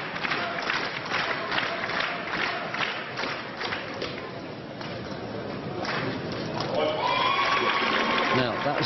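A badminton crowd at the 2013 Swiss Open women's singles final cheers and claps on behalf of Ratchanok Intanon, a dense, steady roar of voices and applause in a large hall, with shoe squeaks near the end.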